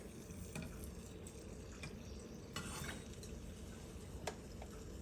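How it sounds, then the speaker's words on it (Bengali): Rice-flour batter frying in hot oil for pitha, with a soft continuous sizzle and bubbling plus a few light clinks from a utensil; no talking. "তেল গরম হয়ে গেছে তো ব্যাটারটা ভেসে উঠেছে"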